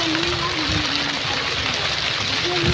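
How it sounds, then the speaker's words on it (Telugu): A steady hiss of rain shower falls outdoors in a village setting, an even wash of noise with no breaks, while a voice talks over it. "కొద్ది తగ్గినట్టుంది జల్లు"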